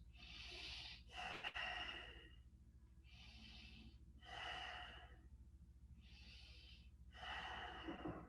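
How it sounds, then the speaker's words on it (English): During a Kundalini yoga warm-up, a person takes three big breaths, giving six airy inhales and exhales in an even rhythm. The breaths are close and clear, with short quiet gaps between them. "3 big inhale exhales."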